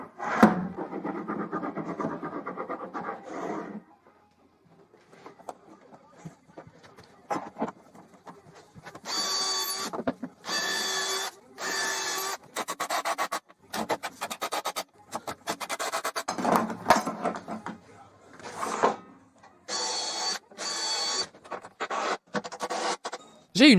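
A wooden piece is screwed onto the side of a table saw tenoning jig, with a power screwdriver whirring in short, repeated bursts broken by pauses and scraping handling noise, close and fairly quiet.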